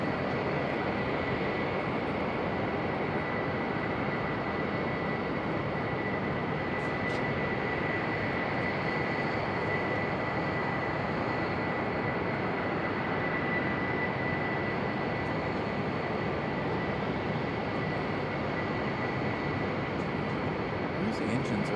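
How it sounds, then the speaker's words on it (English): Airplane engines, likely a CRJ's, drone steadily with a high whine on top during run-up at Raleigh-Durham International Airport, a constant, loud roar that holds unchanged throughout. "These engines are running up like that."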